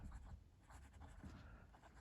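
A Caran d'Ache 849 fountain pen with a fine nib writes on paper, making a soft, continuous scratching that comes in brief strokes, very faint and close.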